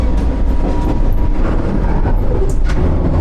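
Interior rumble of the Ibusuki no Tamatebako train in Kyushu, Japan, while riding: a loud, steady low roar of wheels and carriage with occasional rattles and clicks, no talking.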